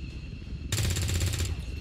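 A dense burst of rapid automatic gunfire in XCOM 2 Long War 2, loud and close, rattling for under a second against steady game background noise.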